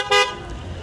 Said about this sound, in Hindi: हॉर्न ये पागल क्यों बजा रहे हैं।